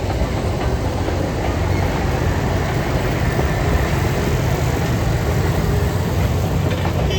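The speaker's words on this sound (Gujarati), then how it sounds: "ટ્રેન આવી રહી છે પાછળ" A train runs close behind the grounds at Kankaria Lake in Ahmedabad, a loud, steady rumbling roar with a faint rhythmic rattle that holds at the same level throughout, with no talking.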